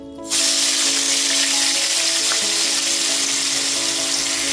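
Spice paste of ground onion, ginger and garlic hits hot oil in a pan on a gas stove, bursting into a loud, steady sizzle and hiss that holds without a break.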